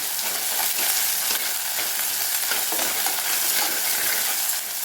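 Prawn curry masala with rock salt sautés in a pan, producing a dense, loud, continuous sizzle with faint scraping stirs underneath, heard close up and unbroken for several seconds.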